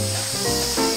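Paint spray gun spraying gold paint onto a car, a loud continuous close hiss that sputters slightly and surges near the end of a short burst.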